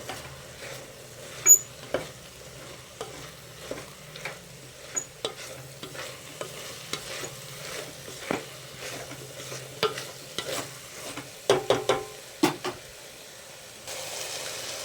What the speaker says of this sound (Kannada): ನೋಡಿ, ಫ್ರೈ ಆಗ್ತಾಯಿದೆ.